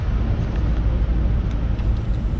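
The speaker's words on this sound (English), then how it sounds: "there's a sick, sick AMG. That's coming right now" A Mercedes-AMG car passes on a road with a loud, close, continuous low engine and tire roar that holds for a couple of seconds, with no talking.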